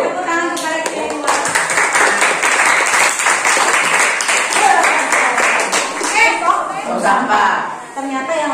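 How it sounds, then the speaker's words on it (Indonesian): Students in a classroom clap together in a dense burst of applause that fills nearly the whole span, loud and close, fading out at the end, with voices mixed in at the start. "Tepuk tangan kepada kita dua."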